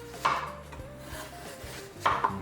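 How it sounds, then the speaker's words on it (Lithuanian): Knife slicing semi-frozen venison into millimetre-thin pieces for carpaccio, giving two crisp cutting strokes about two seconds apart over a quiet kitchen background. "Čia milimetro plonio gabaliukais pjaustosi ir tai yra toks storis, kuris tinkamiausias yra karpačiui."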